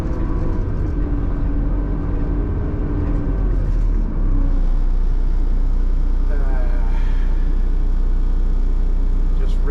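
A skid steer grinding along as it pushes a broken bucket, giving a steady low diesel rumble with dense scraping and clattering throughout.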